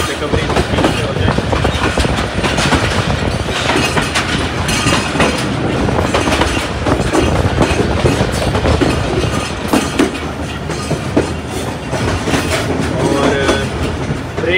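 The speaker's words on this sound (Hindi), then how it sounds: "बहुत ज़्यादा उछल रही है ये कोच" The brake-van coach of the early-morning Malkwal Express, with no carriages behind it, bounces along the rails with loud, continuous rumbling, clattering wheel clicks and jolts, heard from inside.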